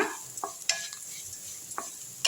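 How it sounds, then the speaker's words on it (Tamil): Grated coconut roasts in hot oil in a pan for a greens chutney, with a steady soft sizzle under sharp, irregular scrapes of a spoon stirring it close by. "இதையும் சேர்த்து நல்லா வறுத்துருங்க"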